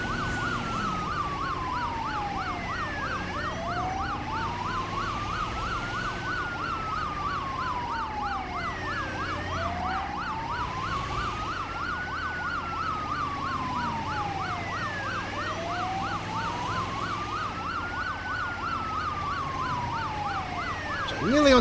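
Two ambulance sirens wail together in GTA 5, one a rising and falling sweep and the other a rapid warble, steady and loud over a low engine rumble throughout.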